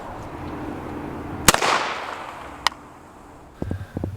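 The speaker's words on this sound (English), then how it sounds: "9mm went right there, zipped right through it like it was nothing" A 9mm pistol fired at a body armor can koozie, one sharp loud crack followed by a short echo, then a fainter impact snap and a few scattered clicks afterward.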